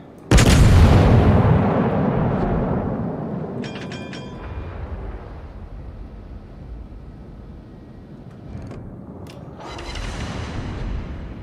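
Naval gunfire in World of Warships: a heavy, booming salvo hits with shells ricocheting off a battleship, followed by a long rumbling decay, a few sharp metallic clanks, and another swell of distant blasts near the end.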